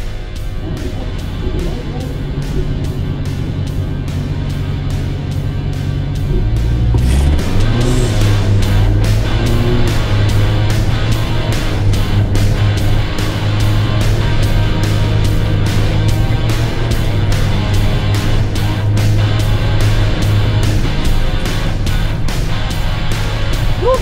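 Drag racing cars roar on a short 201-meter strip in Davao City, a loud continuous engine drone that climbs in pitch mid-run and holds at high revs, with talk over the racket.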